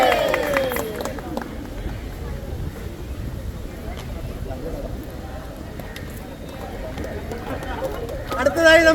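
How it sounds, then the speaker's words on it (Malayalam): Audience applause at a Union Christian College (UC College) World Cup 2026 countdown show, a steady dense wash of clapping that runs throughout and swells near the end, with voices mixed in. "അപ്പൊ നിങ്ങൾക്ക് ഇത് കൈയടിക്കാം അദ്ദേഹത്തിന് വേണ്ടി"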